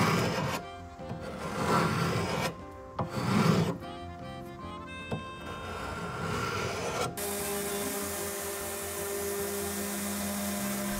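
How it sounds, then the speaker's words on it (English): A hand scraper rasps old finish off an antique wooden buffet in close, uneven strokes during the first half, followed by a steadier, continuous grinding texture. "the scraping got rid of the majority of the old finish off of this piece"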